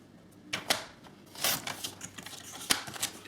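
Paper being cut to size for a gift card folio, heard as a few sharp crisp snips and rustles scattered unevenly, close by and fairly quiet, with soft handling noise between them.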